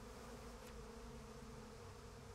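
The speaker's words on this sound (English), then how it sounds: "Compton isn't handling all these bees very well" A dense swarm of bees buzzing in the video game Psychonauts 2, a steady, even drone that holds at a low, constant level for the whole stretch, with no voices.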